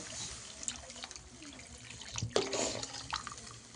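Water is poured into a pot of potato curry for the gravy, a short splash and trickle over a busy kitchen background with a brief louder gush midway.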